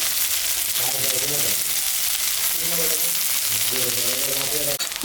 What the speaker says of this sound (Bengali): পেঁয়াজটা ভাজা ভাজা হয়ে গেছে, এখন আমি মশলা দেব।